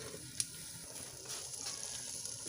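Chicken with turnips browning in a clay pot, giving a steady, fairly faint sizzle with one sharp tap near the start and no voices.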